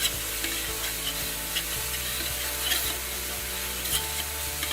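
Chopped mint and cilantro leaves cook in a pot with a constant close sizzle, broken by light scraping and stirring sounds.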